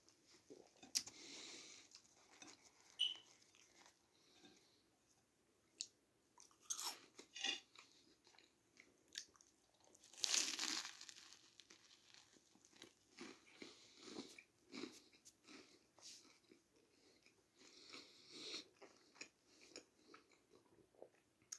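Crunchy bites and chewing of a fajita wrap filled with Wotsits and mayonnaise, close and quiet, with scattered crisp crunches and softer mastication across the clip and no talking.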